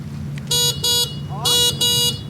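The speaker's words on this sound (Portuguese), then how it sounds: "Vamos acionar a buzina aqui dele pra gente ouvir?" Electric patrol vehicle horn sounding four short, loud, buzzy beeps in two pairs, close by, with faint background noise between the bursts.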